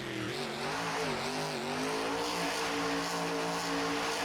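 The Max D monster truck's engine screams loudly at high revs during a freestyle run, a sustained harsh roar with pitch rising and falling slightly across several seconds, heard alone without talk.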